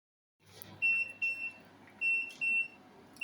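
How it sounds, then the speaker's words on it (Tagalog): A kitchen timer alarm goes off during baking of Arabic macaroni béchamel with carrots, sounding as repeated bursts of sharp electronic beeping, fairly loud and close, in a quiet room with faint background noise. "Nag-a-alarm na po yung ating alarm."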